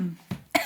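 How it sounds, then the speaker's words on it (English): Two short coughs, close and fairly soft, separated by a brief pause, with no speech. "Oh, the coughing again."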